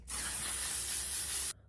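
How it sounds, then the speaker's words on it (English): Makeup setting spray misted onto a face, one continuous close hissing burst lasting about a second and a half before cutting off abruptly. "spray your face"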